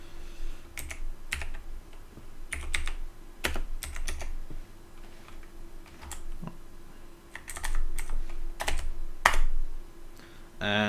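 Rapid typing on a computer keyboard, close and clear, with irregular bursts of clacking keystrokes and short pauses between runs of keys.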